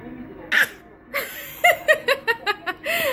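A little girl sneezes repeatedly in a quick series of short, sharp bursts, with a few louder sneezes early and then several rapid ones, close and clear with no talk over them.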